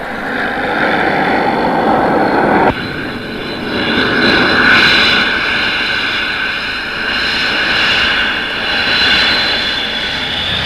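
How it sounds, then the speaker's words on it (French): A Transall twin-turboprop cargo aircraft from 1963 drones loudly and steadily overhead, with a continuous engine roar that swells and eases slightly as it passes, no voices over it. "Les 2 Transal, fruits de la collaboration franco-allemande, avion cargo biturbo-propulseur qui vole à 500 km/h."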